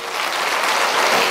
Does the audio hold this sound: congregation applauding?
yes